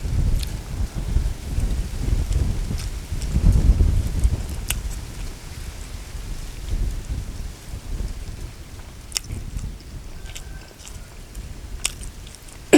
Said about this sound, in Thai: มีลมมาเย็น